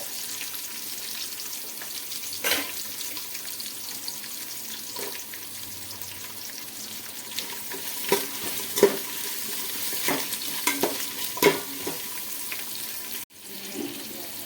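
Chopped carrots sizzle in a hot pan while being stirred, a constant fry hiss broken by sharp scrapes and clinks of the spoon, ending with a brief pause.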